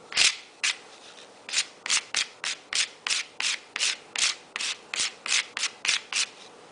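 Manganese dioxide is scraped out of the inside of a zinc-carbon battery in about sixteen crisp, evenly spaced strokes. Each one is a short, loud, gritty rasp, close up and with no voices.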